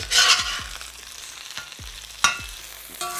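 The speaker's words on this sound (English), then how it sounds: "so that's why I'm frying this" Chicken sizzles and crackles frying in a hot wok while a utensil stirs and scrapes with sharp, intermittent knocks.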